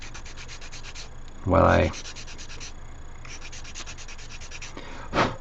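Sanding a resin scale model kit part by hand, with rhythmic, quick scratchy strokes in short bursts, interrupted once by a brief spoken phrase and a louder thump.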